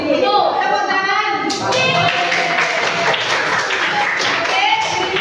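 Children clap in a classroom, starting with voices chattering, then a burst of lively, uneven hand claps that continues over ongoing kids' chatter.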